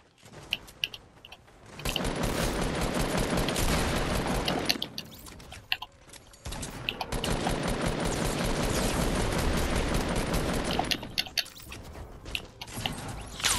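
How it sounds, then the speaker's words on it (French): Gunfire in a Fortnite match crackles in long, dense automatic bursts, loud and close, with two sustained volleys separated by brief lulls and no talking. "Pourquoi on me tire dessus?"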